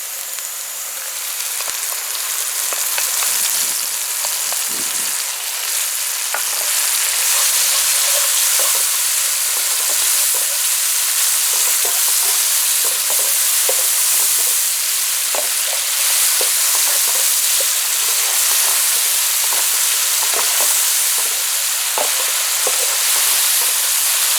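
Curry paste for a Bangamary fish curry fries in a pan with a loud, steady, close sizzle, with scattered scraping ticks of stirring throughout and no talking.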